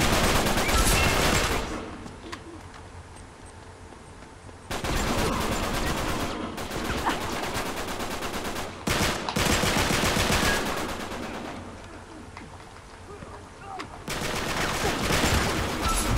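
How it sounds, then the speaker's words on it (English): Automatic gunfire in an Uncharted 3 multiplayer match comes in long, loud, rapid bursts, several sustained volleys separated by short quieter gaps with lingering ambient noise. "You're getting shot in the freaking back."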